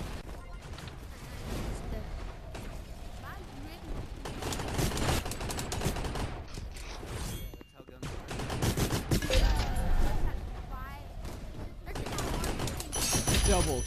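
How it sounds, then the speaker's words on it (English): Rapid bursts of gunfire from the VR shooter Gun Raiders crackle almost continuously, loud and dense with fusillade-like volleys and sharp impacts, while someone talks over the action throughout. "you got shot from the back"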